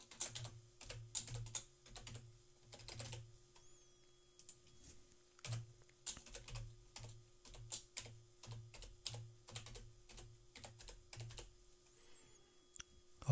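Typing a username and password on a computer keyboard, irregular bursts of crisp, close key clicks with short pauses between words, fairly quiet over a faint steady hum, with no talk.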